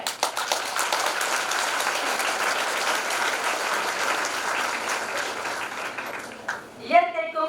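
Sustained applause from an audience at a Women's Day celebration, steady and full for several seconds before tapering off, with a voice starting to speak near the end.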